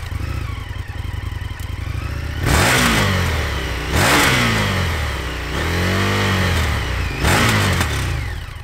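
An Indian FTR 1200 Rally motorcycle on its stock exhaust idles, then revs hard four times in quick succession, each blip rising sharply and dropping back to a lumpy idle, loud and close with no voices.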